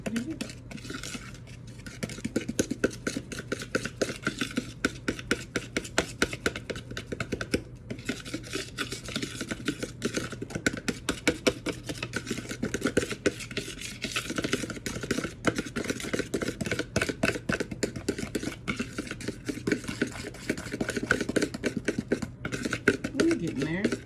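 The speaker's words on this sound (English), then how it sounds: "then we're going to mix this until it's smooth" Flour and milk batter for peach cobbler stirred by hand in a bowl, a steady rapid scraping and swishing rhythm running throughout, close and moderately loud, with no talking over it.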